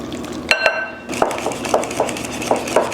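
A spoon clinks and scrapes against a bowl while mixing ingredients with flour, salt and pepper, giving a steady series of light metallic taps at roughly regular intervals, close by and fairly clear.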